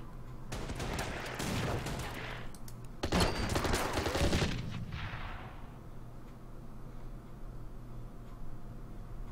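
Artillery fire in the wartime strategy game Order of Battle: Pacific, a couple of heavy booming bursts over the first few seconds that trail off into a low rumbling hum.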